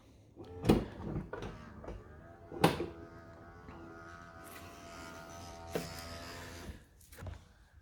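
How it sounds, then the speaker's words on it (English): Several mechanical thuds and clunks with a whirring motor in between as the powered boot of a crash-damaged Crown car opens and then shuts, nearby and fairly quiet. "the cool thing is the boot still opens"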